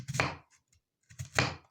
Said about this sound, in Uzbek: Endi piyoz to'g'rayman.